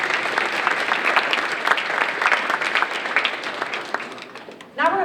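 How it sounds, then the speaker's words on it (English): An audience claps warmly at a community kindness event, a full, steady round of applause with a few brighter individual claps, fading toward the end before a voice briefly cuts in. "Let's give her one more round of applause"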